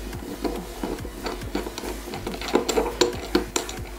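Part of an electronic shisha being unscrewed to open its tank for filling, giving close small clicks, scrapes and light plastic-and-metal handling taps.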